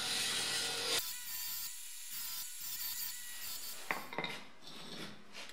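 Metal pieces being cut and shaped by hand for welding repairs on a BMW E30 325i Sport, with faint, close rasping and scraping strokes, some pauses and a few small clinks.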